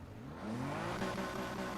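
A stock 2.6-litre RB26 inline-six in a Nissan Skyline R34 GT-R in Need for Speed Heat, rising from a low idle into a smooth, climbing rev that holds steady and clear with no talk.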